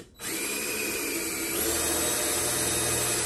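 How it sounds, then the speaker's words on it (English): A power drill spins up and bores through a Honda Z50 part, a steady whining drone that steps to a lower, heavier pitch midway as the bit cuts, loud and close after a brief exclamation. "I probably shouldn't have drilled the hole all the way through."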